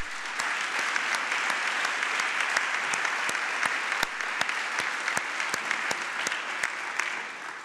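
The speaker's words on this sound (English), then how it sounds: "Could the team from Houston please stand and give them a round of applause?" An audience at an education prize announcement applauds steadily, a dense bed of clapping with a few sharp, nearby claps standing out at irregular intervals until it tapers off.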